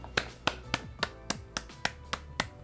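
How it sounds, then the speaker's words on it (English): About a dozen sharp claps land in a steady, even rhythm, close and fairly quiet, in a podcast setting with no talking. "Let's give him a hand clap"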